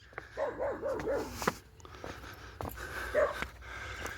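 A dog barks repeatedly at close range in a series of short barks and yelps outdoors near a highway, with faint background noise between bursts.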